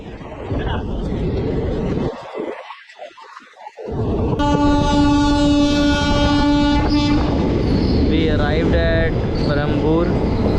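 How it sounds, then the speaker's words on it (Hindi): An Indian express train approaching from the Dibrugarh side passes close by. A loud sustained horn sounds over heavy rumbling and wheel clatter, with voices partly heard. "डिब्रूगढ़ के साइड से आ रही है ट्रेन,"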